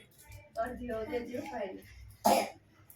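Talking voice, then a single sharp, loud cough near the end.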